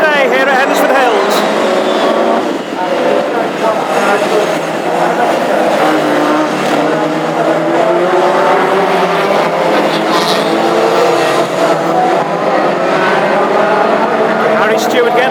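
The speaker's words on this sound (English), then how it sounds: "And we drop the green and we go racing for the first event of the day here at Hednesford Hills." Classic hot rods race at Hednesford Hills, their engines a loud, continuous roar with shifting pitch, tire noise mixed in, all under steady commentary.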